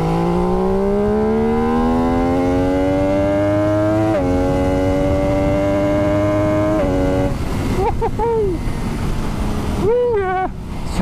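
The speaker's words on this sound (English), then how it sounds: "Sounds really, really racy when you use a quick shifter blipper." A 2021 MV Agusta Dragster 800RR engine rises through the gears with quick shifter blips, a loud close exhaust climbing in pitch, with short drops at each shift and quick throttle blips toward the end.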